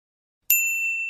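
A single bright electronic chime rings out after a moment of silence and lingers as a sustained tone, like a phone's ringtone starting.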